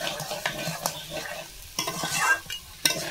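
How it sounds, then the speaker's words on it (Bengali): Crab pieces and bamboo shoots fry with spices in a pan, a steady sizzle broken by repeated scraping stirs of a spatula, close and fairly loud. "আমি এই বাঁশকড়াই আর মশলার সাথে ভালো করে ভেজে নেব"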